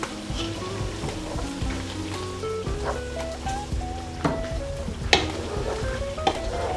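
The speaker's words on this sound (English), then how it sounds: "Give this a nice lovely mix. Get all them ingredients mixing nicely in there." Chicken biryani ingredients stirred in a hot pan, a steady sizzle under clattering spoon scrapes and knocks, close and continuous with no talking.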